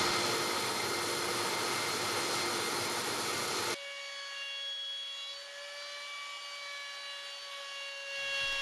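A small round-over being routed along the outside corners of wooden chair seat panel pieces: a loud, steady whirring cut lasting about four seconds, then cutting off to leave a fainter, humming machine spin-down.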